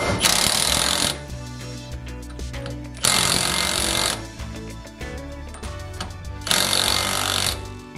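Pneumatic impact gun rattling loudly in three bursts, tightening the driveshaft nut on an R33 Nissan Skyline during a diff and driveshaft install; the rapid hammering stops briefly between bursts while background music continues under it.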